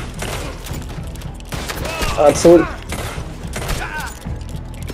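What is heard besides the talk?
Lancaster repeater gunfire in video game Red Dead Online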